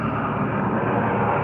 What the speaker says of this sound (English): There's an interesting helicopter.